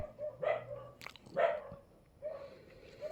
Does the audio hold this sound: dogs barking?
yes